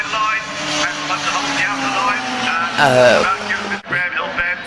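Mini 7 race cars race through Paddock Hill Bend at Brands Hatch, with several engines revving and shifting pitch and tyres squealing as they pass close and loud, under an excited commentator's voice.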